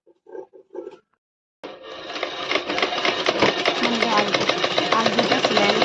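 A sewing machine stitching the fall onto an Assamese mekhela sador starts up after a few brief spoken words, then runs as a loud, close, rapid mechanical chatter that grows steadily until the end.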